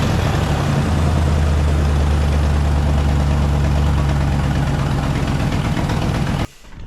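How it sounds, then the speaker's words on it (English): A 2012 RAM 2500 truck engine idles loudly and steadily up close, with a heavy low rumble and the raspy roar of an exhaust leak, cutting off abruptly near the end. "lots of exhaust noise, but no squeaking pulley noise"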